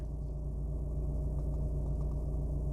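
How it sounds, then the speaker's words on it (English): A 2010 Audi A4 B8 with a 2.0 TDI diesel and manual gearbox idles steadily, a low, even rumble with a faint hum, heard alone and fairly quiet from inside or near the car. "I'm going to be quiet for a second and then you tell me if you can really hear this engine."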